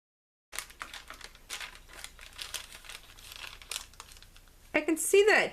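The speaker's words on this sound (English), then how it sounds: "I'm removing the backing on this Heat and Bond." Paper backing is peeled away from a sheet of Heat and Bond fusible web during free-motion appliqué work, a close, dry crinkling and rustling that runs in uneven bursts and ends in a louder, sharper tear.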